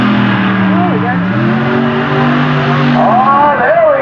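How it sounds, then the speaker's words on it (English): A Hemi-powered Raminator monster truck spins donuts at a freestyle show in Bloomsburg, PA, its engine droning steadily with revving pitch sweeps, while a commentator talks over the din. "A little donut action in the back."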